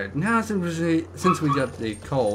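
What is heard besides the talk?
dogs barking in the background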